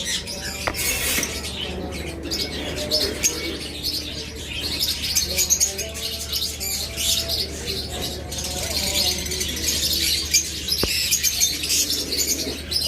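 A female splendid parakeet just out of its breeding box, giving bright repeated chirps among other cage birds in a busy aviary, with steady background chatter and hum.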